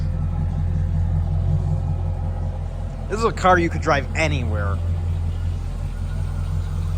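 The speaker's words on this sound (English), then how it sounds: "I'm going to give you a walk around while it's running, rev it up" A 1969 Chevrolet Camaro with a swapped LS V8 engine idles with a steady low rumble throughout, while someone speaks briefly over it midway.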